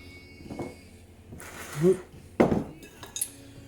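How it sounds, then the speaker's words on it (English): A bowl shifted across a kitchen counter during rhubarb and strawberry crumble making, a few clinks and a sharp knock of crockery with a short scrape, close and clear. "Let me move my bowl so you can see a bit better"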